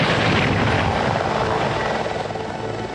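Mi-24 Hind attack helicopter flying close and loud, its rotor and engine giving a dense, steady thudding roar that fades slightly toward the end, no talk.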